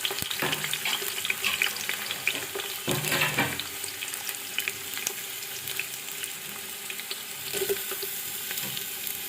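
Onions sizzle in a cup of hot oil for chana pulao, a steady close frying hiss with a few louder crackling bursts near the start and middle, with no voices.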